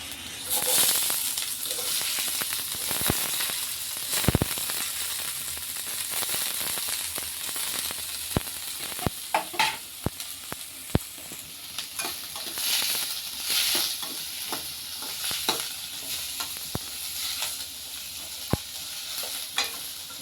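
Two large chopped onions fry in oil for a potato cutlet, giving a broad steady sizzle with scattered sharp clicks of stirring. A faint voice is heard now and then.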